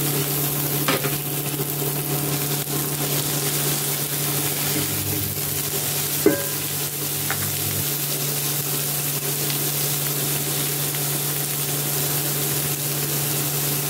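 Chopped tomato drops into a pan of onions frying for dal, giving a steady even sizzle with a few light scrapes and clicks of a spoon stirring, alone and continuous throughout.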